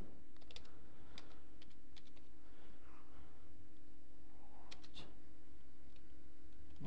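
Quiet, steady typing on a computer keyboard: light, close key clicks come in irregular runs over a constant low hum, with no voices.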